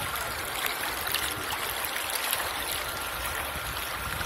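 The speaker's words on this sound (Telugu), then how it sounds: "ఇది చూస్తున్నది గంగ ప్రవాహం." The clear Ganga river rushes past at Haridwar in a steady, broad wash of flowing water, with no voices and an even, unbroken level throughout.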